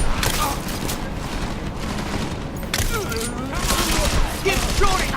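Rapid bursts of gunfire from the Xbox One video game Deus Ex: Mankind Divided crackle and boom continuously, growing denser and louder toward the end, with voices mixed in among the shots.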